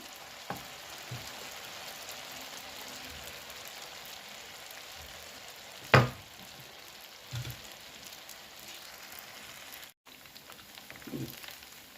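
Battered onion rings deep-fry in hot oil with a steady close sizzle, broken by a sharp clatter partway through and a few soft knocks.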